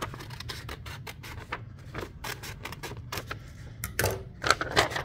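Scissors cutting cardboard along a traced line, a close series of crisp snips and scratchy cuts in an uneven rhythm with short pauses, loudest toward the end.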